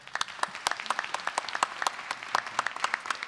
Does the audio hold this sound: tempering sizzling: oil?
no